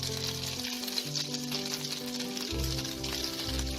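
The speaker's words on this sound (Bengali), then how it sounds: "কবিরাজিটাকে ভাজতে হবে।" Battered fish kabiraji frying gently in hot oil over a low flame, a steady soft sizzle and patter running throughout with low tonal hum underneath.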